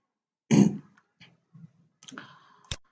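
Computer mouse clicking, a few soft, close clicks spaced irregularly over a quiet background, ending with one sharper click.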